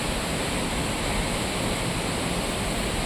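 River water rushes steadily past, a loud, even broadband roar with no breaks or distinct splashes, close and continuous, no talk.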